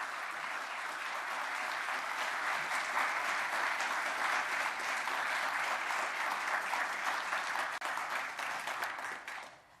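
Sustained audience applause at an Army Acquisition Hall of Fame induction ceremony, a dense steady roar of many hands clapping for nearly ten seconds before tapering off at the end, with no talking over it.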